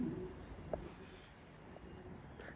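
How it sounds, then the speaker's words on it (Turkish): Pigeons cooing at a pigeon café in Gaziantep, soft low coos at a distance over quiet room ambience, with a faint voice nearby. "kuşlar da burada bak."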